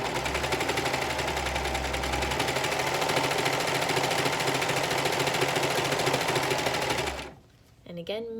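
A sewing machine runs steadily through a romper bodice seam, its fast rhythmic stitching loud and continuous for several seconds before stopping, followed by a brief voice.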